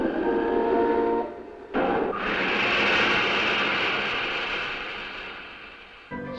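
Jet-propelled aircraft engine in a 1954 film: loud, close roar that opens with steady whining harmonic tones, breaks off briefly, then swells into a broad rushing blast that slowly fades toward the end, with no voices.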